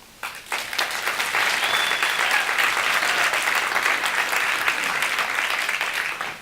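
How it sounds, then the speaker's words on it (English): Sustained applause from a large audience at a talk, dense clapping rising quickly and holding steady and loud for several seconds without voices. "it was quite hard to spot anybody who wasn't clapping in the audience then"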